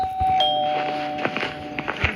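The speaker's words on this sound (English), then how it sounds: "we need to ring the doorbell one more time" A doorbell rings with a sustained electronic chime tone close by, followed by scattered footsteps and small knocks as the chime fades.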